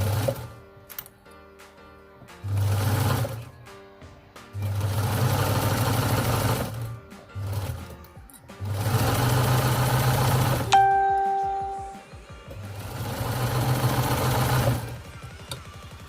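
A sewing machine stitches the pieces of a cosplay sock paw in several bursts of steady motor whirring, each lasting a few seconds, with quiet pauses between them and a brief tone near the middle.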